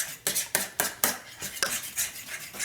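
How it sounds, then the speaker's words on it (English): Whisk beating an egg into cold beer in a bowl for onion ring batter, a quick rhythmic run of scraping, clinking strokes, close and steady, with no speech. "So I'm just going to go ahead and whisk this together."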